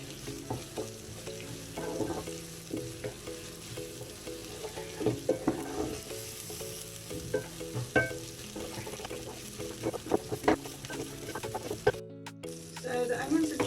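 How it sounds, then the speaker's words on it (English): Onions and jeera sizzle steadily in a pan while a utensil scrapes and stirs the bottom in repeated close strokes, the frying hiss constant underneath. "I'm going to continuously mix this so it doesn't burn. Just scraping the bottom of the pan to absorb all those flavors."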